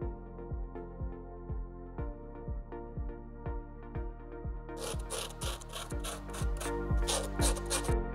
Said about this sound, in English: it's important that the outside where the T-piece will be mounted is roughened